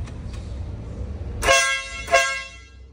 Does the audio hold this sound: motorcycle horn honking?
yes